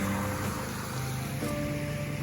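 A creek runs beside a campground in George Washington National Forest, Virginia, giving a steady, close rush of flowing water with no talking.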